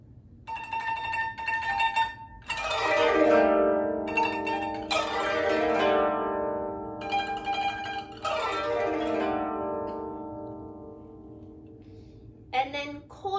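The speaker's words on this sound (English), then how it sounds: "First is sararin, which combines tremolo and wallen together." Koto played with the sararin technique, tremolo blended with wallen: several bursts of shimmering plucked strings sweep across the scale, separated by short pauses, close and moderately loud with no talking.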